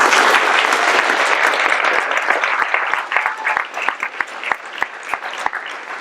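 Sustained applause for graduates at a high school graduation ceremony, a dense crowd of clapping that thins toward the end into scattered, sharper individual claps.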